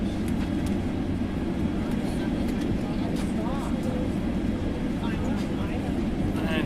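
Steady, loud engine roar from an A320neo airliner taking off from Aberdeen in a flight simulator, a continuous low rumble and whine holding level throughout with faint background clicks.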